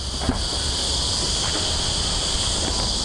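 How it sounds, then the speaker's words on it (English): Cicadas buzz in a loud, continuous high-pitched drone that holds steady throughout, with no voices. "You'll have to excuse the cicadas."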